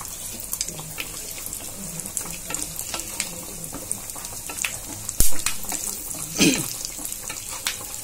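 Dry fruits fry in melted ghee while being stirred, producing a light crackling sizzle with intermittent scraping strokes and a couple of sharper knocks against the pan.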